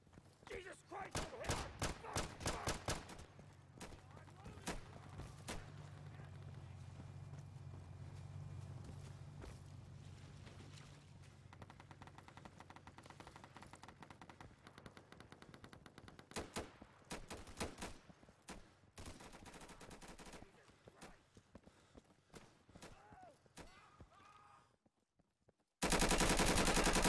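Sniper fire and gunfire on a custom multiplayer map, with rapid bursts at the start and then scattered shots and footsteps through a long stretch, ending in a loud blast.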